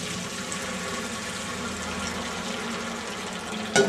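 Boiled vegetable water pouring out through a colander in a kitchen: a steady, even rush of liquid that runs throughout and ends with a brief clatter.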